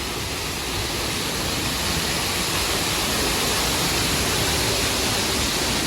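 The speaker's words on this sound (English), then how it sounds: "We see a little waterfall area" A small waterfall at Disney's Animal Kingdom rushes in a steady, loud, broadband hiss of falling water, continuous and close with no pauses.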